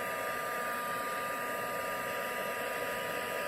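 A small heat tool or dryer blows air to dry ink on an artist trading card, a steady, unbroken hiss with a constant whine, close up and alone.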